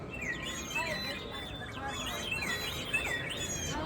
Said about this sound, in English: If you press those 2 pegs above Snoopy's paw print, you can hear samples of birds.